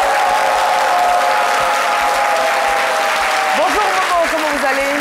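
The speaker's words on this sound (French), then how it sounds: "Ça s'applaudit quand même. Ça s'applaudit." Studio audience applause fills a midday TV show set in Côte d'Ivoire, steady loud clapping throughout, with a sustained tone and a voice sliding in near the end.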